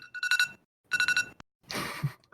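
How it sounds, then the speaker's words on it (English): An alarm sounds in repeated loud electronic beeping bursts, two tight clusters of rapid beeps followed by a harsher noisy blast. "There's the alarm."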